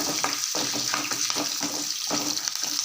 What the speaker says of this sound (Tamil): பச்சை மிளகா எண்ணெயில் போடுறப்ப பார்த்து போடுங்க ஏன்னா அது விதை மேலே தெரிக்கும்